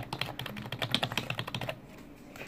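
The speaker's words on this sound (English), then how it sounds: "Let me type the thing for this." Quick bursts of typing on a computer keyboard, a rapid run of clicky keystrokes that slows and fades out near the end, close and clear with no talking.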